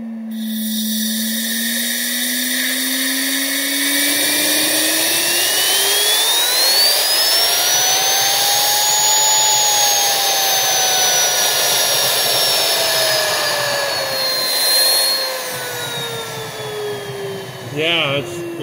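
Tesla turbine driven by air through a Venturi nozzle, a loud steady whine that climbs in pitch as it spins up, then wavers and drifts down, with airy rushing underneath.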